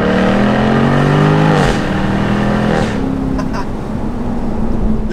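A Jaguar F-Type R P575 convertible's V8 revs hard and loud close by, its note climbing then dropping as the gears change, settling into a steady throaty drone.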